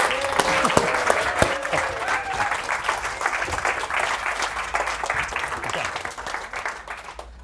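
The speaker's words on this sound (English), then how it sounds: "we're going to start with a nice big slow clap" Audience at the Edinburgh International Book Festival claps for arriving authors, a fairly loud spread of hand claps with some sharp, distinct strikes, while a voice speaks briefly over the start.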